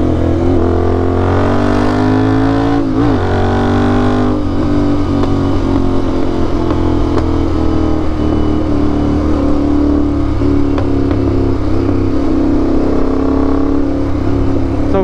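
A motorcycle engine revs loud and close, with rising and falling throttle bursts over a steady rumbling idle, and no talking.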